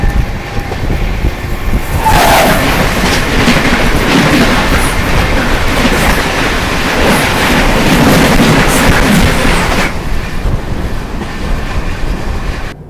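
The Amritsar-Howrah Mail passes close by, a loud, sustained rush of rolling wheels and rail noise that builds over about eight seconds and then drops away.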